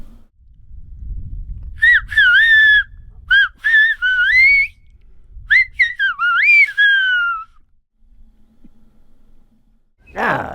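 Silbo Canario, the whistled language of Gran Canaria used by herders in the island's highlands, sounds as loud, clear whistled phrases with rising and falling pitch glides, in short bursts and pauses over soft low background noise.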